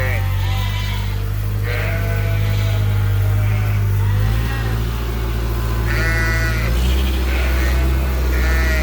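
Ewes on a sheep farm bleat repeatedly in several loud, wavering calls spread through the stretch, close by over a steady low rumble and a murmur of voices.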